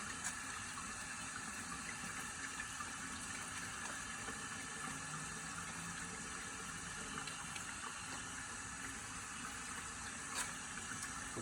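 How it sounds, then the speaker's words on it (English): Tap water runs steadily from a faucet while hands are rinsed under it, a continuous quiet hiss and splash with no talking. "I'm going to do this by letting the water run down to my fingertips in both hands"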